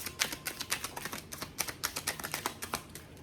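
Rapid, crisp tarot card riffling and slapping, a dense run of short papery clicks close by, with no voices.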